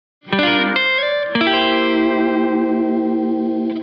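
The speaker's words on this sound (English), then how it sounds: "you can play individual notes in between the chords," Electric guitar with a chorus-like shimmer strums a chord, then single notes ring out before a second chord sustains and slowly fades.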